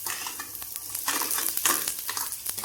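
Chopped onion frying and browning in a pan for zunka, a steady close sizzle broken by scraping stirs and a few light utensil knocks throughout.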